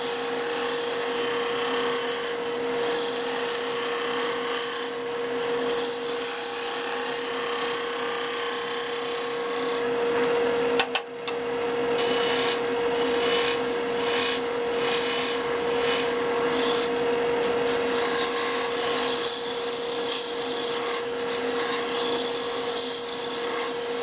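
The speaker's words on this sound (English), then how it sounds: "I trued up the edge on my scraper, and I'm going to go in now and clean this up" A steady, dry scraping rasp of a hand scraper shaving wood, continuous and close, with a constant background hum and one sharp knock midway.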